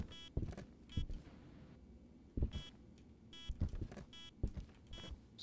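EMF reader beeping in the Demonologist horror video game, a series of short electronic beeps repeating at irregular intervals, fairly faint against quiet background with soft thumps between them.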